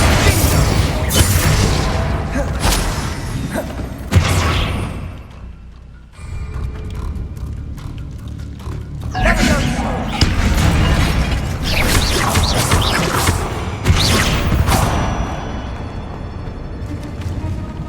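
Bombarda blasting spell in Hogwarts Legacy, loud booming explosions and crashing debris with rumbling impacts in bursts, a brief lull near the middle, then more heavy blasts and clattering.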